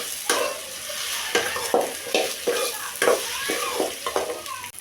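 Okra for a ladies-finger chutney sizzles in a pan, a spatula scraping and stirring in irregular strokes every second or so over a continuous close frying hiss.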